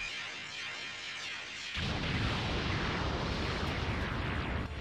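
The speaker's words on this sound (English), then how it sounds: "now we're gonna instantly press R1 and do our hell bullet" Aqua Buu's hell bullet attack in Dragon Ball The Breakers goes off as a loud, sustained explosive roar that kicks in abruptly after a quieter rumbling lead-in and keeps blasting for several seconds.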